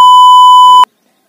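A loud, pure censor beep holds steady for almost a second over faint speech, then cuts off sharply into silence.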